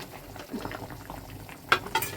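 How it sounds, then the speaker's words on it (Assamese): A pot of fish and kohlrabi curry simmers at a low boil, soft bubbling and burbling throughout with a couple of sharper clinks near the end, fairly quiet and close. "আৰু এয়া তৰকাৰী উতলি আছে"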